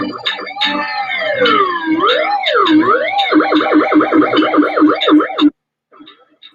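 A warbling siren effect rises and falls in quick cycles, layered with distorted sounds and voices, then cuts off abruptly into near silence.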